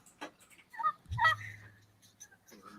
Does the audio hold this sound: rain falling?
no